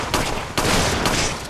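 Loud gunshots from Resident Evil 5 versus mode, three heavy, close blasts in quick succession over roughly a second and a half, like shotgun fire.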